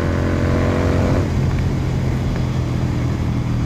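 Royal Enfield-style GT650 650cc motorcycle engine fitted with a BMC air filter, running loud and close with a steady low rumble that shifts as the revs settle.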